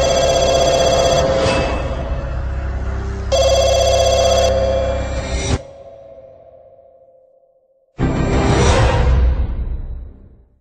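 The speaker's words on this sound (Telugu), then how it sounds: "అరే ఫోన్ లిఫ్ట్ చేయకరా" A telephone rings loud and close in two long bursts, the second fading into a sustained tone before a swooshing sweep ends it.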